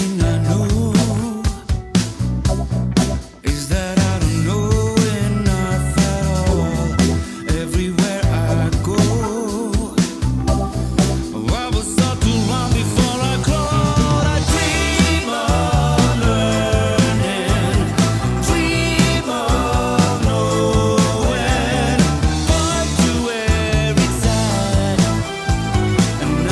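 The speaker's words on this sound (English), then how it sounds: "I have made a song out of my intro tune," A full produced song built from a channel's intro tune, with dense layered instruments, steady drums and a melodic line, playing loud and continuous throughout without pauses.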